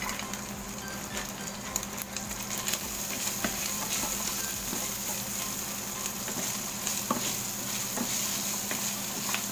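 Chicharon frying in hot oil as it is stirred, a constant close sizzle and crackle with faint scraping of the utensil running through the whole stretch, no voices.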